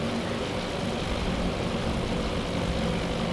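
Dive bomber aircraft engines in the naval strategy game Task Force Admiral, heard as a steady, loud droning roar with no break and no voices.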